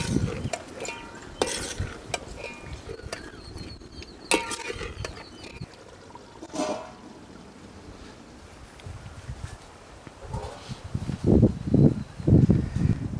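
Tandoori chicken pieces are stirred in hot oil for a dhaba-style tikka masala, with scraping spoon strokes, clatter against the pan and a low sizzle that swells into louder bursts of frying near the end.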